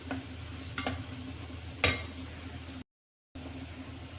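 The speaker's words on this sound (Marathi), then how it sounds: "कांदा लसूणचं वाटण तेलात परतून घेऊया" Onion-garlic paste frying in hot oil in a home kitchen, a soft steady sizzle with a few sharp clinks of a spoon against the pan, fairly quiet and close, with a brief dropout near the end.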